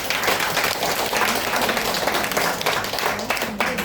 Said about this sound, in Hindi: जोरदार ताली सभी के लिए।